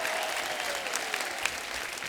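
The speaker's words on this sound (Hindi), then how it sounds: "जोरदार तालियां हो जाए" An audience applauds on a comedy talk show, sustained clapping that stays fairly distant and soft with a few sharper individual claps standing out.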